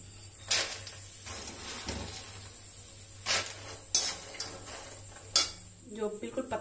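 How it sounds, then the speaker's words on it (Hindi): Makhana (fox nuts) tipped into hot oil in a home kitchen, with a few clattering knocks of utensil against pan and a soft sizzle at the end. "अब मैं इसी तेल में मखाने डालूंगी"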